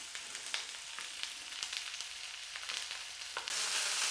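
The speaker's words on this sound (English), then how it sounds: "Let's fry them slowly." Austrian Bauernbratwurst sausages fry slowly in a pan, giving off a continuous crackling sizzle with scattered pops and spits that swell louder toward the end.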